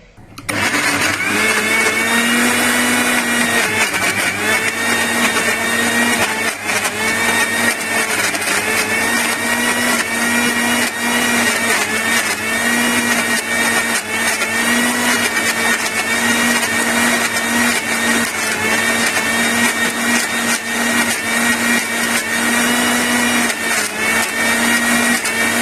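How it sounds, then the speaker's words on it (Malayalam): Mixer grinder grinding peanuts into homemade peanut butter, a loud, steady motor whine with a grinding rattle running continuously and close up, without pause or talk. "ഇനി നമുക്കിതൊന്ന് തടുത്ത് കൂട്ടിയിട്ട് നമുക്കൊരു 40-45 സെക്കൻഡ് കൂടി നന്നായിട്ട്"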